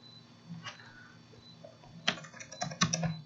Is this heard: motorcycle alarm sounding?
no